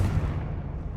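Confringo explosive spell fired in Hogwarts Legacy, a single sharp booming blast with deep low-end thump, loud and close, decaying quickly over about a second.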